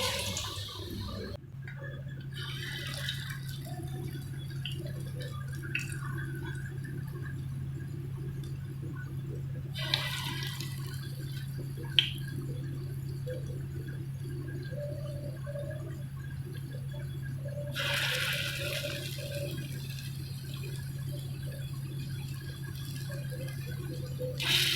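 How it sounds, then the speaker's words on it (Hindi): Bottle gourd kofta balls frying in hot oil give a soft, steady sizzle over a low kitchen hum, with two louder hissing bursts as more balls drop into the pan. "तो इसको मैं डाल दूँगी डायरेक्ट ऑयल के अंदर।"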